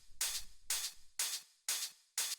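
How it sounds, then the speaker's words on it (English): Soft, live-sounding hi-hat on the upbeats in an atmospheric house groove, five bright airy hits at an even pace, each with a short hissing decay, faint and alone. "What this is it's just a hi-hat playing on the upbeats."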